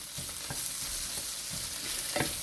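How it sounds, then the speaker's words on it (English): Raw shrimp sautéing in a hot pan, a steady bright sizzle broken by several soft scrapes of stirring, close and alone without talk. "Saute it a little bit."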